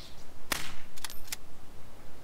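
Two sharp gunshots ring out in the DayZ video game as a zombie is killed, a loud crack followed shortly by a second, with a brief mechanical click between and a quiet ambient background.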